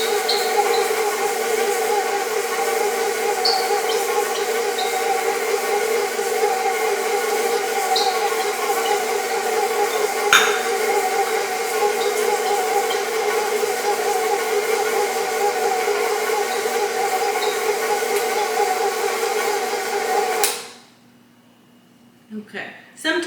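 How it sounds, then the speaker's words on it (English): An electric mixer creams butter and sugar for chocolate chip cookies, giving a loud, steady, high motor whine that holds for about twenty seconds and then cuts off abruptly. "you want to cream the butter with the sugar so that it's all like one"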